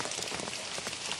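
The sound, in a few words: rain falling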